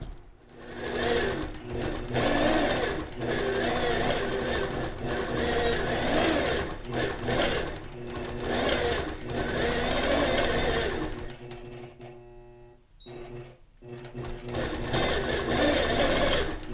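A sewing machine runs steadily through free-motion quilting stitches on a compositional mini quilt, with a whirring mechanical hum that pauses briefly near the end before starting again.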